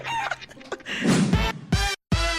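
A woman imitates a chicken, giving a short run of high clucking and squawking cries with brief gaps between them. Her voice sounds close and loud.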